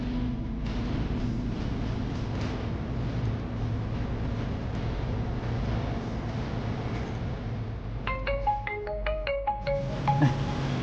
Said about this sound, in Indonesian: Mbak Nani telepon nih.